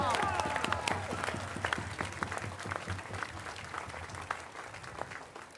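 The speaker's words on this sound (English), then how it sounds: "one final round of applause to the staff and volunteers of the National Archives" An audience at a Fourth of July event at the National Archives in Washington, D.C. applauds steadily, with dense, even clapping that fills the whole stretch and fades only slightly near the end.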